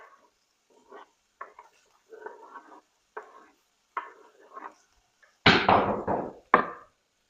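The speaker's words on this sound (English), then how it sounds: "that was my dog dropping his bone on our wood floor" A dog drops a bone on a wood floor, giving two loud, sharp bangs close by, preceded by quieter scattered clatters and scrapes in a kitchen.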